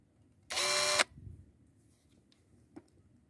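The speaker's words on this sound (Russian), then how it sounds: "делаем углубление, чтоб при сверлении сверло не выскакивало" A power drill whirs loudly for about half a second drilling into metal, then stops abruptly, followed by quiet scraping and a small metallic tap.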